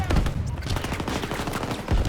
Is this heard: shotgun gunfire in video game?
yes